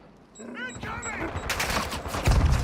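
Rapid gunfire bursts from a Call of Duty: Modern Warfare 3 battle-royale match, growing dense and loud in the second half, mixed with in-game voice callouts and player chatter.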